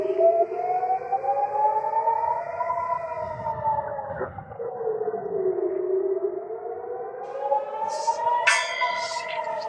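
A loud air raid siren wails steadily, its pitch slowly rising and falling over several seconds, with faint noises and a brief sound near the end.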